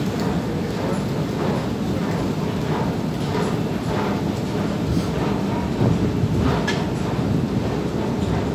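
A train rolls past in Stockholm with a steady low rumble and rhythmic clacking of wheels over rail joints, continuous and fairly close for the whole stretch.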